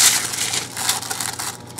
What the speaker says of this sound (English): they peel off real easily from the parchment paper